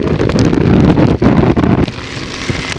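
Strong, steady cyclone wind in Jaffna buffets the microphone with a dense low roar, gusting and briefly dropping before settling into a lighter rush.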